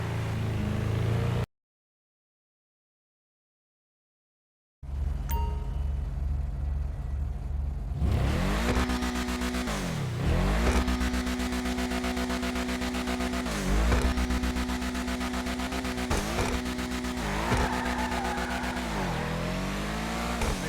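A customized sports car in GTA Online drives off after a brief silent gap, its engine revving hard through repeated gear shifts with rising and falling pitch, close and loud, with occasional tire squeal.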